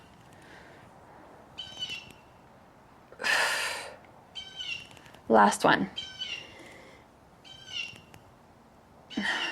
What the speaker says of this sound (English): Sorry if you can hear the bird.